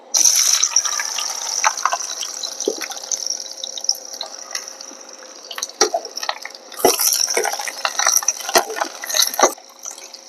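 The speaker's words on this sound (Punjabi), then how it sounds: "ਤੇਲ ਗਰਮ ਹੋ ਗਿਆ ਤੇ ਪਹਿਲਾਂ ਹੁਣ ਆਪਾਂ ਕਰੇਲੇ ਪਾਵਾਂਗੇ ਤੇ ਇਹਨਾਂ ਨੂੰ ਭੁੰਨਾਂਗੇ" Bitter gourd drops into hot oil for frying, producing a bright sizzling hiss punctuated by scattered pops and crackles, surging after the vegetables go in and staying close and fairly loud throughout.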